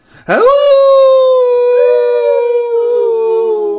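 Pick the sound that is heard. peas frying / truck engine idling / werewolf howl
werewolf howl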